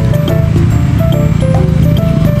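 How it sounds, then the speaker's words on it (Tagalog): Motul oil is poured slowly into a Mio Soul i 125 scooter during an oil change, producing close, continuous glugging and gurgling liquid sounds with small bubbly pops. "buhos lang natin to dahan-dahan."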